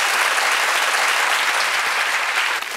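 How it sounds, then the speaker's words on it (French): A television studio audience claps loudly and continuously in a dense, even wash of applause at the close of a show. "Merci à vous tous, on vous applaudit"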